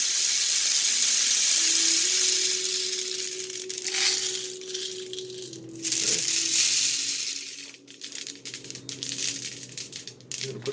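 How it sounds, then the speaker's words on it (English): Copper-coated BBs poured into a PVC rain stick tube make a loud rushing, rattling hiss that swells and fades over several seconds, close by with no talk. "I'm just going to take some silver or some copper-coated BBs, and I'm going to dump about half the bottle in there."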